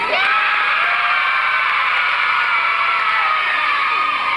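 Children at a library reading event cheer and shout "yay" together in a loud, sustained burst of high voices. Crowd noise fills the whole stretch, and distinct clapping is hard to pick out.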